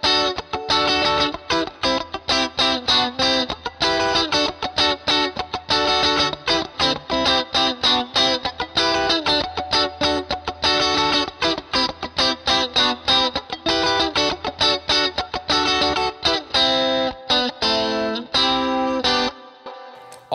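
An electric guitar with distortion and chorus effects plays a choppy, rhythmic triad riff. Dense staccato chord stabs continue steadily for about twenty seconds, loud and up front, then cut off near the end.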